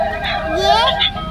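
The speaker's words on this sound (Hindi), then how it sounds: "बोलने वाला कैक्टस।" A talking cactus toy speaks up close in a high, warbling electronic voice with sliding pitch, a short burst of chirpy synthetic chatter.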